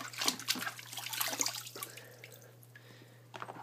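Water runs and splashes as dirty sponge pads from a Rena Filstar XP3 aquarium canister filter are rinsed, an irregular spattering that fades to a quiet trickle, close and faint over a steady low hum.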